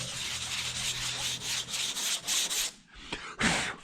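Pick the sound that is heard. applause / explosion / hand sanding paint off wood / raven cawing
hand sanding paint off wood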